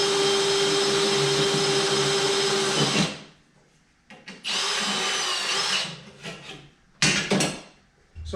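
Power drill boring into a brake part on a table during a 1966 Galaxie 500 drum-to-disc conversion, a loud steady whine for three seconds, then shorter bursts with pauses between.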